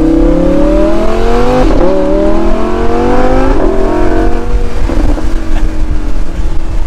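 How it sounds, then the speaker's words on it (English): A loud, high-revving naturally aspirated V10 Lamborghini Huracan EVO engine roars steadily and close, pitch climbing in repeated surges as it accelerates through gears. "You can't argue with a naturally aspirated V10 though"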